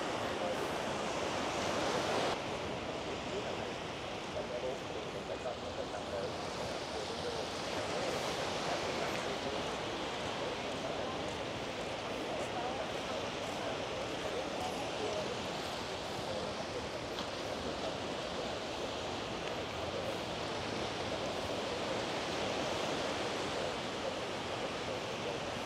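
Ocean waves break on a beach at Da Nang, Vietnam, in a continuous, fairly loud roar of surf with some wind rush. It carries on unbroken throughout with no voices.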